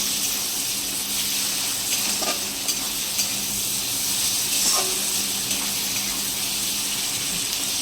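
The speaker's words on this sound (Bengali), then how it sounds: "চিংড়ি মাছটা একটু ভেজে নেব। চিংড়ি মাছটা আমি আগে থেকেই লবণ হলুদ মাখিয়ে রেখেছিলাম।" Prawns coated in salt and turmeric frying in oil in a pan for a kochur loti dish, a constant loud hiss and crackle with occasional stirring clinks, close up and free of speech.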